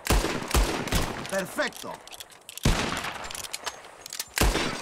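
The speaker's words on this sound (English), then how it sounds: "Just draw your gun and aim when you're ready. Right? Shoot!" Gunfire in Red Dead Redemption 2 as bottles are shot: a few sharp loud pistol cracks spaced out over a couple of seconds, with a man's brief spoken line between them.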